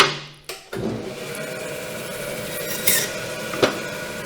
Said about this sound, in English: So now what I need to do is I need to move over to my bandsaw.